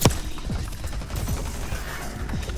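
Gunfire from the video game Call of Duty: Black Ops 6 rattles in rapid bursts and scattered shots, blending with dense game effects that persist throughout.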